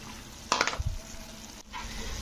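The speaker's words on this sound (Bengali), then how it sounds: "তো সিমইটা দিয়ে একটু নাড়াচাড়া করে দিতে হবে।" Vermicelli upma stirred in a cooking pan, a brief burst of scraping and sizzling followed by a steady low simmering hiss, no voices.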